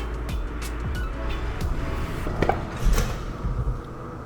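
A Rivian in rock crawl mode with its two front wheels on rollers gives a constant low rumble of motors and rollers, with faint clunks and creaks on top, close and steady, and no speech.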